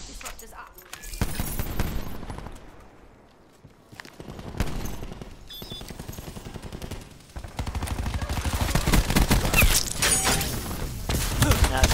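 Gunfire in Call of Duty Black Ops 4: loud bursts of automatic weapon fire and single shots come and go in clusters over game sounds and music, growing denser toward the end, with players talking at times.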